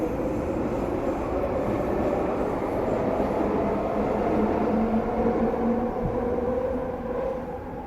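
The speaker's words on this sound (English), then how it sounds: "another train" A train rumbles steadily past nearby, wheels clattering on the rails with a brief high squeal near the end, loud and continuous throughout.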